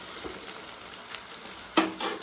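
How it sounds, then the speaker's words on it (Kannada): Onions frying in a pan for a home-cooked mutton curry and rice meal, a soft steady sizzle with a couple of brief stirring clatters. "ಉಳ್ಳಾಗಡ್ಡಿ ಫ್ರೈ ಮಾಡ್ಕೊತ"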